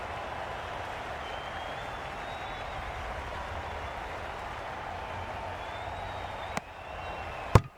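A stadium crowd applauds in the Cricket 22 video game as a steady, wash-like clapping that stays at an even level, with a couple of sharp thuds near the end.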